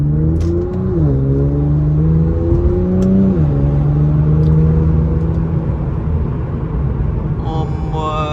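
A straight-piped Infiniti Q50 engine pulls hard on a street in Mexico, with a loud, raspy rising drone that climbs and dips through gear changes across several seconds, heard close from inside the car with no talk.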